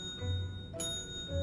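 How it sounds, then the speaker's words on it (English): Bells chiming in the video game Luigi's Mansion 3, a single clear metallic strike with a sustained ringing tail over a soft low background hum. "Sure is a lot of bells."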